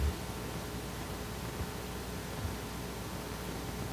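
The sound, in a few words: generated tone coming out as white noise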